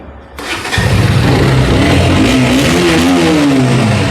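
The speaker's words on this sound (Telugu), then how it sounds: "మనకి ఇంజిన్ కూడా మంచి స్మూత్ బీటింగ్ వస్తుంది" A KTM RC125 motorcycle engine runs close and loud with a steady, even throb that settles in after a short start, holding constant throughout with no talking.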